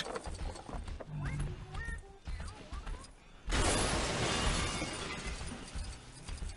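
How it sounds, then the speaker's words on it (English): Clip-clopping horse hooves in Lego Star Wars: The Force Awakens, a steady run of game hoofbeats with clattering and breaking effects. The sound grows louder and denser in the second half, with no talking. "As I just take my time riding a horse."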